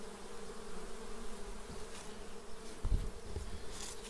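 A small nucleus colony of honeybees hums around its hive, many wings droning steadily nearby, with a few brief knocks or handling bumps near the end and no speech.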